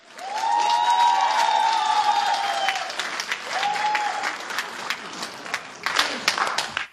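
An audience at a 2017 Suzhou Pingtan concert breaks into loud, sustained applause to welcome four performers onto the stage. The clapping stays dense and steady throughout, with faint tonal sounds running underneath.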